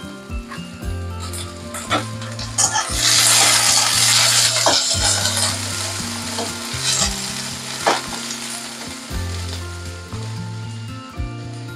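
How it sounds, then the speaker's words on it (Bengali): Chopped onions sizzle steadily in hot mustard oil, with a spoon stirring and scraping the pan now and then, while soft music plays underneath. "পেঁয়াজ ভাজা হচ্ছে"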